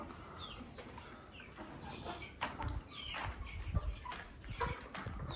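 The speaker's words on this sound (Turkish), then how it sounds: "Şu da horoz arkadaşlar." Birds call faintly around a backyard chicken coop holding Sussex and Legbar hens and roosters. Scattered clucks and short crowing-like calls come from a few metres off, low in level and with no talk.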